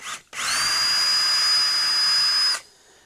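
An electric drill pre-drills screw holes in workbench wood in a garage, giving one steady, close high whine that runs unbroken for about two seconds, then stops.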